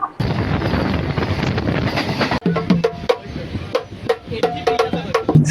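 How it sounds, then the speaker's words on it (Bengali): A local train running from Kolkata toward Jasidih on the Deoghar route, with a loud steady rumble and wind buffeting that gives way to a rhythmic series of rail clacks. "আজকে আমি তোমাদের নিয়ে যেতে চলেছি লোকাল ট্রেনে"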